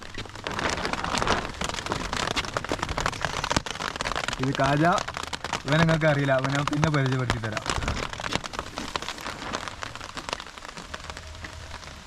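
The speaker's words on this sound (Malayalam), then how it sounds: "നല്ലൊരു മഴ പെയ്ത് ചോർന്ന് നല്ല തണുപ്പ്, കോടമൂടി അന്തരീക്ഷം" Heavy rain pours steadily through the whole stretch in cold, misty hill country, a dense hiss of drops on surfaces close by, while someone talks over it for most of the time.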